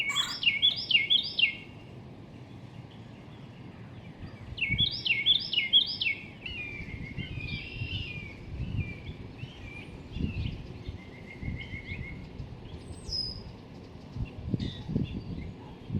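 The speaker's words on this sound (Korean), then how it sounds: "수컷이 구멍 둥지 입구에서 암컷을 불러내고 있습니다." A male woodpecker calls to a female at a nest hole in a backyard, giving bursts of rapid repeated chirping notes near the start and middle, with fainter scattered calls later over low background rumble.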